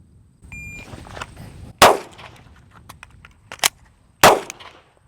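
A pistol drawn and fired once, then a magazine reload and another single shot, during a fast-reload drill with a holster: two sharp, loud gunshots about two and a half seconds apart, separated by clicks and rattles of handling.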